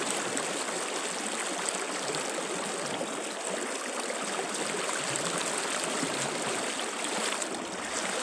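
Water rushes steadily over rocks in a continuous, dense hiss, close and constant throughout with no voices.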